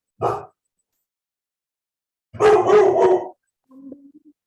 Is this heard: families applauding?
no